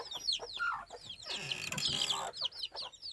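Native country hens and their chicks cluck and cheep close by in a yard, with rapid overlapping peeps from the chicks and a few fuller hen clucks in short irregular bursts.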